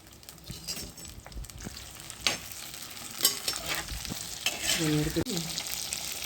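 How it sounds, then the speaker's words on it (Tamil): Eggplant pieces frying in hot oil in a pan, sizzling steadily while a utensil stirs and scrapes them in irregular bursts, close up with no talking. "இப்போ கத்திரிக்காய் பாருங்க நல்லா வதங்கிருச்சு."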